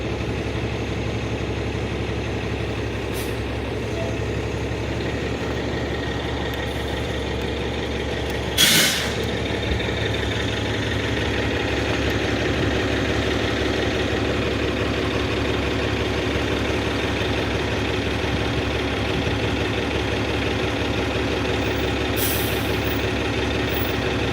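A city bus idles in downtown traffic, its engine rumbling steadily at close range, with a sharp hiss of air brakes bursting out partway through and a fainter release near the end.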